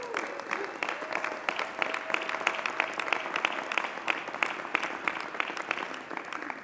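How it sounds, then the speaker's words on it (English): An audience clapping at a city budget announcement, a steady wash of many hands with crisp individual claps, continuous and even throughout, with faint voices under it. "You can clap for that."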